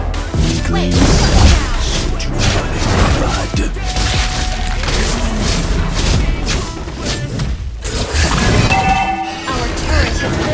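Turret destroyed in a Mobile Legends match, a dense barrage of game crashes, booms and impact hits with music and effects layered over one another, loud and busy throughout, briefly dropping out once before resuming.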